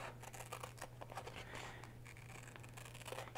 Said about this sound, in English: Going to use my scissors today.